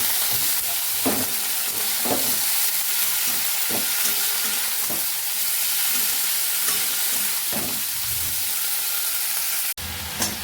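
Cut potato, onion, chili and tomato hit hot oil in a pan and fry with a steady, loud sizzle and hiss, punctuated by occasional stirring scrapes, close up and without voices.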